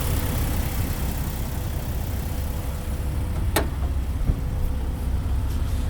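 Jeep Wrangler TJ with the 4-liter engine and six-speed manual transmission driving along, a steady low engine and road rumble throughout with a couple of brief clicks or knocks, no voices.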